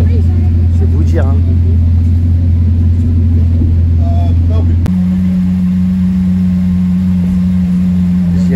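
A hypercar on a Paris street rumbles with a loud, steady low engine drone that shifts to a higher idle tone partway through, with people talking faintly in the background.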